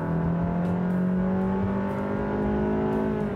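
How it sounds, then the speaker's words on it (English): A 2023 Honda HR-V in Sport mode accelerating, a steady droning engine note with rising harmonic whine heard from inside the cabin, continuous and moderately loud with no talking. "Let's see if putting it in Sport makes any difference to the acceleration."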